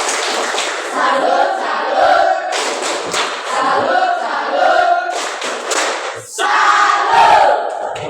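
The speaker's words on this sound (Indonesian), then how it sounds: "Tepuk salut" A group of students at a school activity performs a rhythmic salute clap chant, loud bursts of shouted voices and clapping in repeated phrases with short gaps between them.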